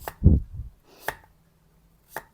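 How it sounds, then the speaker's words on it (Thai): A few sharp knife chops strike a cutting board, cutting pumpkin into even pieces, spaced irregularly with quiet gaps between, close and fairly soft. "เสร็จแล้วหั่นชิ้นเท่าๆกันนะคะ"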